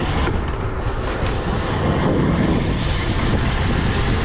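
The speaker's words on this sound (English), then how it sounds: "I can just ride this around my house all day." A DIY 72-volt electric pit bike ridden around a neighborhood, giving a steady, loud broadband whir and road rumble that holds constant throughout without pauses.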